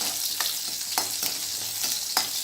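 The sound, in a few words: sambar onions sautéing in a pan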